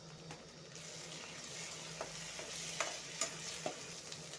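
Spring onion and eggs frying in a pan with ginger garlic paste and being stirred, a steady soft sizzle with occasional scraping clicks, no talking.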